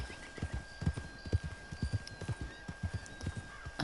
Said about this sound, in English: Back to the horse, get my bearings.